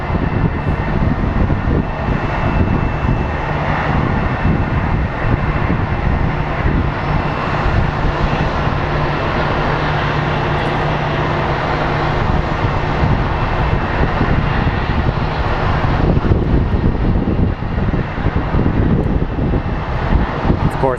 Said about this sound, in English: The United flight should be on final very shortly.